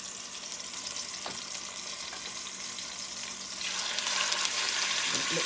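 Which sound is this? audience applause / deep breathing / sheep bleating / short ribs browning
short ribs browning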